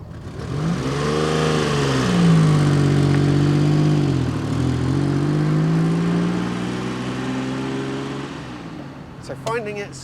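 Citroen SM, the Citroen-Maserati grand tourer, driving on the road, its engine rising and falling steadily through a long pull with a strong low hum, then easing off; a few brief knocks near the end.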